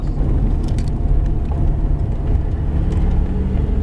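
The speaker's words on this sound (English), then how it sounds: "We're gonna let this Corvette by on my side." A Corvette passes on the Talladega race track, a steady loud engine rumble and road roar held close throughout with no talk over it.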